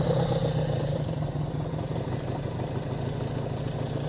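A cafe racer motorcycle engine idling steadily on its carburetors, a close, continuous low mechanical thrum with faint clatter and no break.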